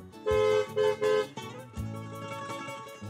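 A car horn honks three times in quick succession, loud and close, followed by a lower rumbling tone.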